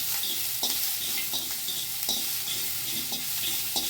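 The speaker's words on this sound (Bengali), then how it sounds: "দেখো এই যে চিনে বাদাম কটা, দিয়ে একটুখানি নেড়ে চেড়ে নেবো বন্ধুরা।" Peanuts are stirred in a pan alongside garlic and green chili, giving a steady sizzle with soft, regular scraping strokes throughout, close and even in level.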